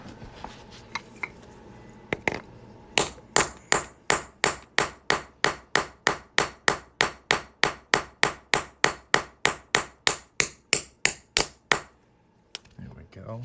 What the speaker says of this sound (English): We're just gonna hammer this punch right through here.